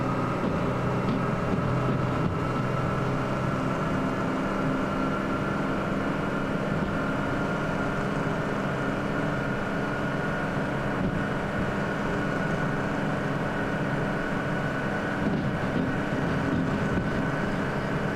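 Locomotive engine throttling up under a very long, heavy freight load in the train simulator Derail Valley, a loud, continuous droning diesel rumble with steady tones, unbroken for the whole stretch, no voices.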